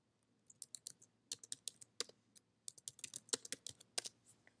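A password is typed on a computer keyboard, faint close-up key clicks falling in quick irregular bursts with brief pauses between the runs of keystrokes.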